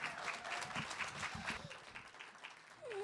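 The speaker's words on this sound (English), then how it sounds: "Let's give them a big round of applause and hear their beautiful music." Audience applause for musicians at a Valentine's Day book club music event at Hugo House in Seattle, a steady round of clapping from a crowd, somewhat distant and soft.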